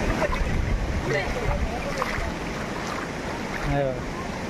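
A small waterfall spills clean, cold water at a village swimming spot, giving a steady broadband rush of flowing water throughout, with faint voices in the background.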